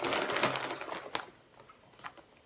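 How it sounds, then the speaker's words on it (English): Plastic wrapping on a parcel crinkles and rustles as it is unwrapped nearby. A burst of crackling fades into scattered, fainter crackles. "oh, I apologise for the crinkling"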